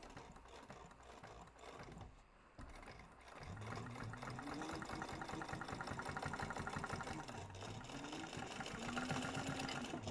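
A home sewing machine runs steady stitching passes along a crossbody bag, laying a double line of stitches; the continuous mechanical whir stays close and loud, with a short pause and restart partway through, and no talking.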